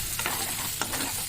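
Cauliflower fries in a pan with a steady soft sizzle, broken by two brief scraping stirs, close up and without talk.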